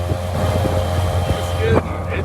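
A Live WaterSports LX motored board runs with a steady low engine drone and tonal hum, mixed with wind and water rush, close and continuous, while a person talks over it.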